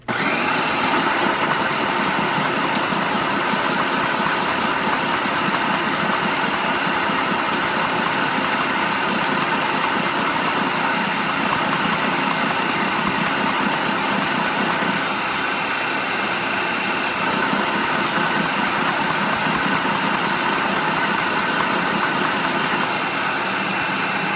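A loud, steady motor whir runs without pause, a continuous mechanical drone with a faint vibrating rattle, a food processor on its chop setting chopping cake pop dough.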